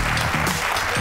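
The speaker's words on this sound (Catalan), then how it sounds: "Un aplaudiment per en Jair." Studio audience clapping on a live Catalan television show, a short, loud, dense burst of applause heard on its own.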